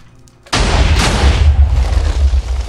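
Natural gas is set alight in a video game and erupts in a sudden, loud explosion, followed by a sustained deep roaring rumble of fire that carries on to the end.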